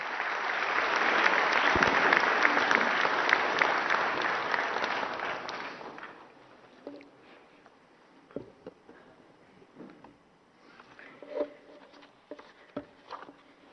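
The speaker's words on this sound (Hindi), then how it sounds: "जोरदार तालियां माननीय राष्ट्रपति महोदया के लिए।" An audience gives loud applause for the President of India at an energy conservation award ceremony, a dense burst of clapping that fades after about six seconds into scattered claps and rustling in the hall.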